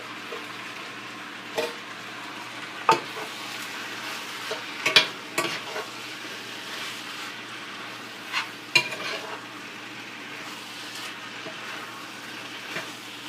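Canned ackee being stirred into a sizzling saltfish mixture in a pan, with a steady fry sizzle and scattered scraping knocks of the spoon, close and alone without talk.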